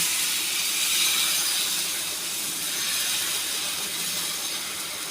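A steady, loud sizzle hisses without pause as jowar-flour batter fries on a hot oiled griddle, with no voices.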